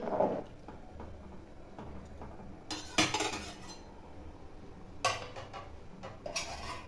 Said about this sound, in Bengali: দিয়ে আমি হালকা করে একটু নেড়ে দেবো নিচে।